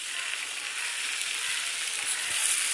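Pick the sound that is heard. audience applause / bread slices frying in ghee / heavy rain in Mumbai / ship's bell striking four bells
bread slices frying in ghee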